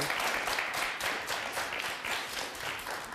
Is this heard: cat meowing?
no